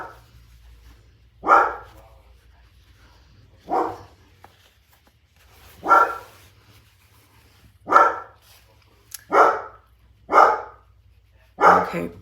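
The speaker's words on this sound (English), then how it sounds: "So now we have the dog barking along with the husband talking." A dog barks in single loud, nearby woofs, about seven of them spaced roughly two seconds apart, over a quiet indoor background with a low hum and no talking.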